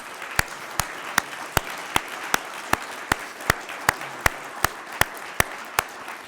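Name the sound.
applause at a symposium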